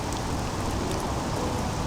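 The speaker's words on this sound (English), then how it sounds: "Ugh, rain, I can feel cold coming on already." Rain falls as a continuous, even hiss, fairly loud and close with no breaks, and no voices over it.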